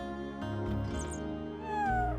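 A cat meows in the video game Chrono Cross, two drawn-out, pitch-gliding meows over a steady musical backdrop, the second rising and then falling slowly; no one talks.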